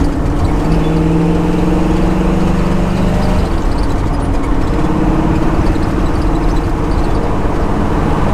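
A 1965 Pontiac GTO engine runs with a deep, steady exhaust rumble, loud and close, with a low droning tone that shifts slightly in pitch partway through and no one speaking.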